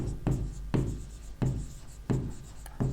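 Chalk or marker writing on a board during an environmental engineering lecture, five short scratchy strokes at an even pace, close and clear with no talking.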